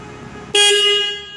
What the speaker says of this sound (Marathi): हॉर्न पण तुम्हाला हॉर्न चांगलं पॉवरफुल आहे